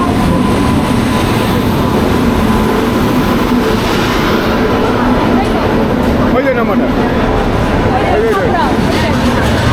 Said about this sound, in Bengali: আমার পেছনে ট্রেন যাচ্ছে